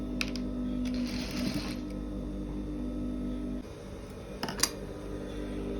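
Sewing machine stitching the side seam of a blouse: a steady mechanical whirr runs throughout, with a few brief clicks and snips near the start and again toward the end, no talking.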